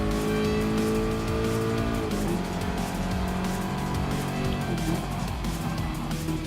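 The engine of the Eckerts Rod and Custom Ford Mach 40 Mustang race car drones loud and continuous in Gran Turismo Sport, its pitch shifting with throttle as the tires squeal faintly.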